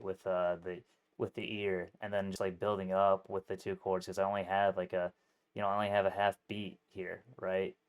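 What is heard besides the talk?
None of the usual background noises is heard.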